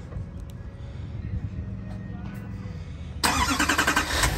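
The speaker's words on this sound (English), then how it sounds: "Remote start does work." Remote start of a 2021 GMC 3500 truck: a low idle rumble gives way to a sudden louder burst as the engine catches, then settles into a steady running sound, heard close and alone.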